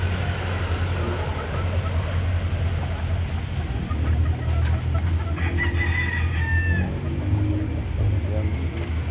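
Hens cluck and a rooster crows in a small backyard chicken pen, the bird calls rising over a steady low hum and background noise, with faint voices nearby.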